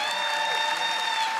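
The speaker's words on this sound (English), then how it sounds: "Can you clap your hands for your pastors?" A church congregation claps for its pastors, a short steady wash of hands heard under sustained musical tones from a keyboard or band.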